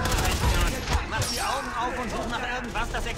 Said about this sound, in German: Irgendwas schießt da noch auf dich.